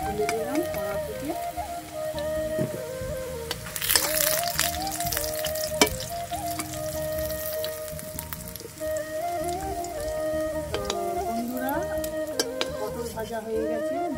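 Fish frying in oil in a home kitchen pan, a continuous crackling sizzle with scattered pops, heard over a steady tonal background and some brief talk.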